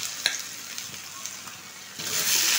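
Potatoes go into a pan of onions and garlic that have been frying for a couple of minutes. A close, steady sizzle with stirring scrapes swells into a louder, fuller hiss near the end, with no talking.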